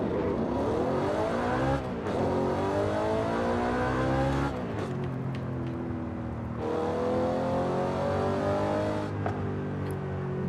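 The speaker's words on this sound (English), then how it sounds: "those downshifts are so crisp. Again, these are manual transmission downshifts" A manual-transmission car in Forza Horizon 5 revs hard, with its engine pitch sweeping down through several crisp downshifts and then climbing again, loud and close.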